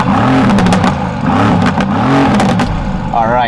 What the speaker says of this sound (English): they were able to keep the pops on revs, which is freaking awesome because I just love when the car pops on revs